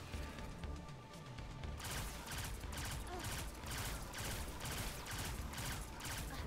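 Rapid gunfire rings out in the video game Destiny 2: Forsaken, a dense, steady stream of regular shots that keeps going after a brief quieter lead-in and stays loud and close throughout.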